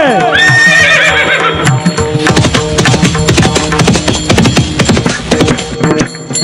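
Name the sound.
horse neighing and hoofbeats sound effect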